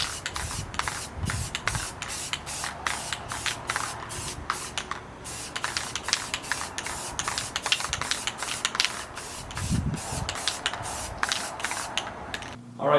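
A spray paint can mists lighter tan Flat Dark Earth paint onto rifle handguards in quick, evenly spaced hissing bursts, close and steady from start to finish.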